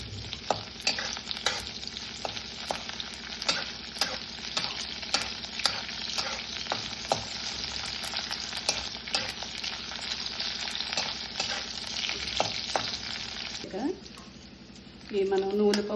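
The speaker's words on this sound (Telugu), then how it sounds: "కొంచెం పచ్చిమిరపకాయలు పచ్చి వాసన పోయే వరకు వేయించుకుంటే బాగుంటుందండి" Green chillies fry in oil in a pan for a cucumber pickle. The sizzle is close and steady, broken by frequent clacks of a stirring spoon. The sizzle briefly drops and shifts near the end.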